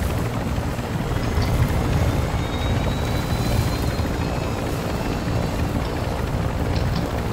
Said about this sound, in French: Voilà, je viens de m'exfiltrer avec l'hélico.